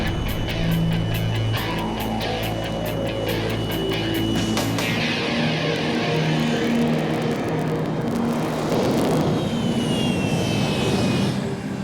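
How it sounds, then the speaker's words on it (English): A jet engine's exhaust blast roars over a taxi cab driving through the jet wash, a loud, sustained rushing roar with shifting whine that swells into heavy turbulent noise. "the cab will take its chances running the gauntlet through the jet wash"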